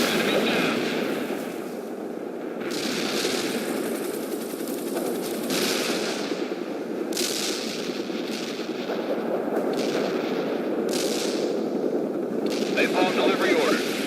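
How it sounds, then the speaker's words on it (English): Heavy artillery fire in the World in Conflict war game: repeated booming blasts and crackling gunfire bursts at irregular intervals, loud and close, with battlefield radio chatter woven through. "Stay clear of target area. Heavy artillery."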